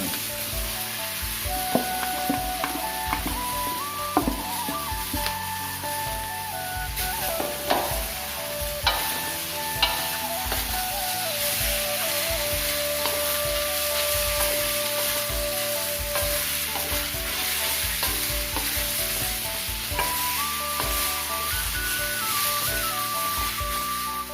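Sliced cucumber stir-fries in a hot pan for a simple egg and cucumber dish, a loud, steady sizzle broken by repeated scrapes and clanks of a spatula, close by and continuous, with no talking.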